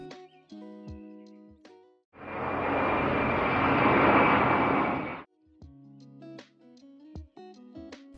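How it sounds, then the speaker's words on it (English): An Air Explore aircraft taxis at Norwich Airport, its engine a broad steady roar rising abruptly, holding for about three seconds, then cutting off, with music before and after. "Here is an Air Explore taxiing to new adventures."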